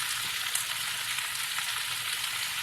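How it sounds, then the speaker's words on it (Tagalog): Meat sautéing in oil in a pan for Bicol Express, giving a continuous, even sizzle close by, with no talking. "Okay, tapos ilagay na natin yung meat. So, igigisa lang natin."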